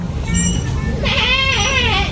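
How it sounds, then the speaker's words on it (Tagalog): A goat bleats loudly and close by in a rural province setting, its wavering cry rising over a background of voices and ambient noise. "Oh, kambing na naman."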